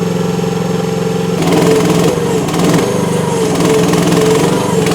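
A FF Industrial FF18R mini excavator's small engine runs loud and close on a cold day, idling with a steady chug and then picking up to a busier, rougher running note as the throttle is raised partway.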